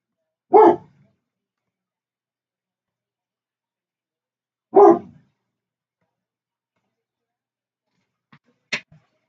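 A dog barks twice indoors, each a single loud, close bark separated by a few seconds of silence, followed by a couple of faint short yips.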